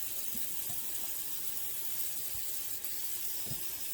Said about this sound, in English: I'm going to fill this up with lots and lots of water